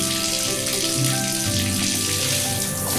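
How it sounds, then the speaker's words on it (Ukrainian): Water running from a tap into a sink, a steady, close rushing splash that holds without a break. "Вода лється і наповнює раковину."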